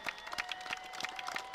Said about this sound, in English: gets a round of applause as he goes to the sidelines